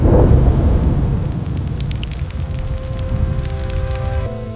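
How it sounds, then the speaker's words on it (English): Loud thunder in a storm breaks as a heavy low rumble that rolls and slowly fades, with rain-like hiss underneath and no voices. "The thunder!"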